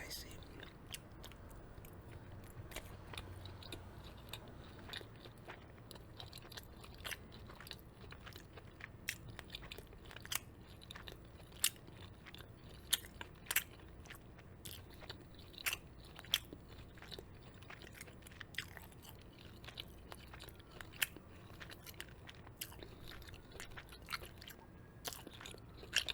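Close, quiet mouth sounds of biting and chewing spicy red pepper salmon from Whole Foods, with soft wet crunches and clicks scattered irregularly over a steady low background for the whole stretch.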